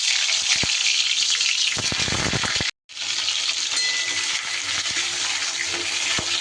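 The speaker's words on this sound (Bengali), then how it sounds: "তেল গরম হয়ে গেলে এবার আমি পটলগুলো ভেজে নেব।" Pointed gourd pieces frying in hot mustard oil give a steady, loud sizzle with crackling bursts, broken by a brief silent gap before the frying resumes.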